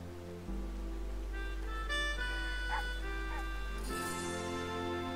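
Puppy in the video game Endling: Extinction is Forever gives short whimpers and yips over a low steady hum, close and fairly soft, with a brief burst of noise near the end.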